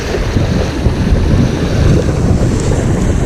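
A sailboat under way with both sails set and its motor running, doing about 5.5 knots off Tasmania: steady loud wind rush and water wash over a low engine drone, continuous throughout.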